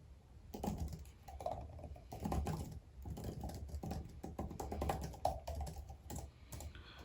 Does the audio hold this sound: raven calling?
no